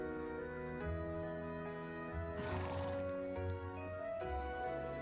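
Arthur, a horse in Trails of Cold Steel 2, whinnies once on a mountain path, a short breathy neigh rising above steady game music and low ambient tones.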